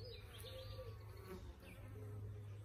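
Honey bees buzz steadily around a hive entrance, a continuous close insect drone with faint bird chirps in the background and no talking.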